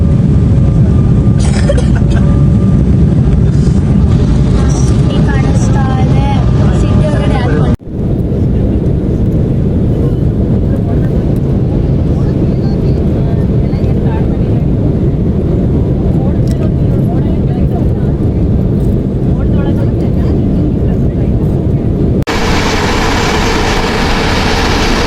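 Steady broadband cabin roar from an airliner in flight between Shivamogga and Tirupati, loud and continuous throughout, with a voice talking over it in the first part and a brief cut near the middle.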